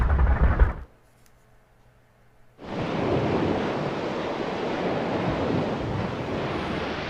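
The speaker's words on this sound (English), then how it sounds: "There's some big waves there." Ocean waves in the video game Breath of Fire 3: a short quiet lull, then a steady, loud wash of surf that rolls on without a break.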